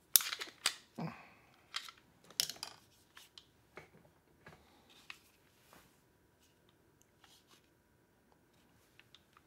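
Sharp metallic clacks come from a plastic-gripped pistol with front and rear slide serrations, several loud snaps bunched in the first three seconds, then softer scattered clicks thinning out into near silence.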